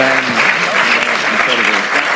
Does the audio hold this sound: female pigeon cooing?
no